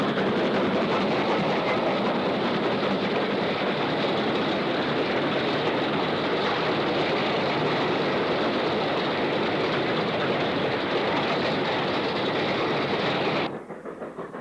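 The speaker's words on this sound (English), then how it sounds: "The first Swindon-built 8F 48400 wheels an empty coal train east through Pleasington" A steam locomotive, LMS 8F 48400, hauls an empty coal train close by on the Preston to Blackburn line, a continuous loud roar with rhythmic clatter of wagons over the rails, cutting off abruptly near the end.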